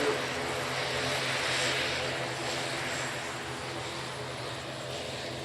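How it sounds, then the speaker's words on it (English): An ATR 72 turboprop airliner passes at an airshow, its steady propeller and engine drone filling the air evenly at moderate distance, slowly fading toward the end. "This is the ATR 72."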